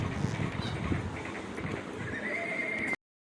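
A horse whinnies loudly over the steady clip-clop of hooves, with a long rising neigh toward the end before the sound cuts off.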